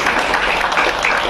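Students and audience at a school event applaud loudly and steadily, a dense, even wash of clapping throughout the short moment.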